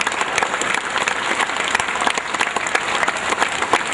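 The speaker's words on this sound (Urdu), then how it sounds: "زیادہ کھڑے ہو کے تالیاں بجا رہے ہیں" An audience claps steadily at the inauguration of a modern laboratory. The applause is dense, sustained and fairly close, with no talk over it.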